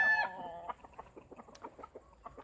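A rooster clucks close by, starting with a short loud vocal call and then moving into a run of soft, quick, irregular clucks.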